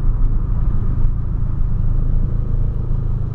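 A Volkswagen Polo coasts downhill in neutral, giving a loud, steady low rumble of road and wind noise with no engine surge, heard from inside the car.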